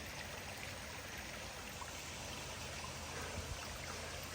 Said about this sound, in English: Right up here, we've got water coming down the rock.